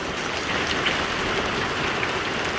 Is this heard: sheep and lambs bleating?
no